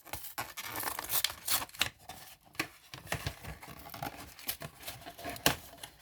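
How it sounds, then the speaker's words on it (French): Cardboard packaging of a Panini Euro 2020 sticker collector box being torn open by hand, a close series of sharp rips and crinkles in uneven bursts with no voices. "on va déballer, on va ouvrir le sachet, l'emballage carton"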